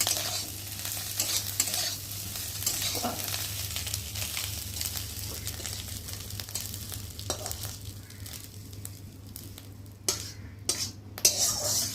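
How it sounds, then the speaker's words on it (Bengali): Quiet sizzling of fish roe frying in a wok, with occasional scrapes and clinks of a utensil stirring, steady and close. "চলো এখন ডিমটাকে ভেজে নেব"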